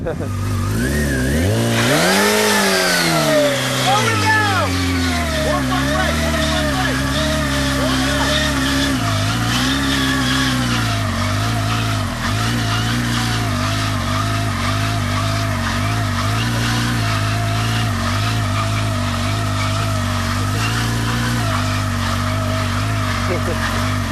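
A motorcycle does a burnout: the engine revs hard and holds a loud, sustained roar while the rear tire squeals and skids, close and continuous.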